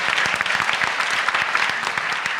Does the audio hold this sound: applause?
yes